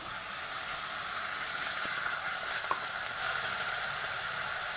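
Frying in a pan, a continuous even hissing sizzle at moderate volume with no talk, interrupted only by a couple of faint ticks of utensil contact.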